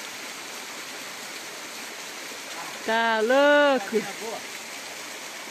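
Waterfall at Cascata da Corticeira pouring as a steady, broadband rush that fills the whole clip at close range, with a brief spoken exclamation rising over it midway.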